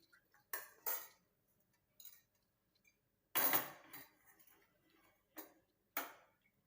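A spoon clinks against a bowl while a homemade hair powder mixture is stirred and a decoction is poured in bit by bit, sparse close taps and scrapes at irregular intervals, no voices.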